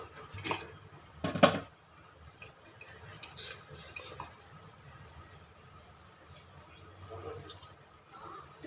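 A spoon stirs a fish curry mixture in a pot after salt is added, with a few sharp clinks early on, then soft scraping and faint sizzling at low volume.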